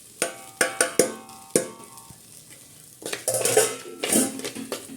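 Spice powders for a fish curry, coriander, chilli and turmeric, stirred into a pan: sharp metallic clinks of a spoon against the pan, then a busier stretch of scraping and soft sizzle, close, no talk.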